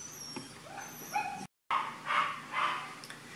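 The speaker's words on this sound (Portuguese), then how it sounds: "os cachorros começam a latir na hora da gravação" Dogs bark and yip repeatedly at a moderate distance, several sharp barks in an uneven rhythm with a brief dropout midway.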